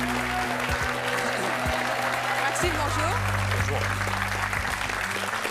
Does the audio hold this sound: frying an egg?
no